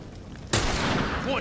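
A hunting rifle fires in The Last of Us Factions multiplayer: a sudden loud blast breaks in after a quiet stretch, followed by a sustained noisy report and game sounds.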